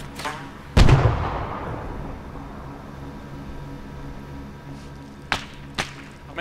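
A grenade blast in Arma 3 on the jungle island of Tanoa: one loud, booming explosion with a rumbling tail, followed later by a couple of sharp distant cracks.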